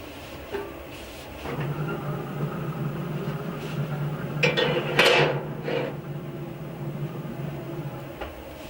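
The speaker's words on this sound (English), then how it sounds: "now I will put the plancha, the griddle, inside the barbecue" A metal plancha griddle set down inside a Pit Boss Navigator 850 pellet grill, giving a few clanks and scrapes over a steady low hum, with a sharper metallic clatter in the middle.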